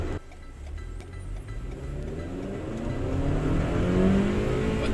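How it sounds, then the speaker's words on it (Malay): Toyota RAV4 SUV with a Dynamic Force engine accelerating on the road, engine note climbing steadily and growing louder from inside the cabin, with no talking. "But the acceleration is immense, man. It's dynamic force engine is something else lah."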